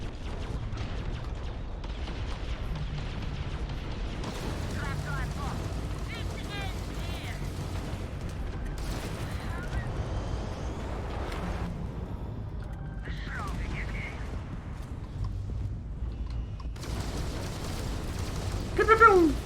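Missiles firing and exploding in the space combat of the video game Starfield: a steady low engine rumble with repeated booms and bursts, plus electronic blips and whooshes, and a louder rush at the end.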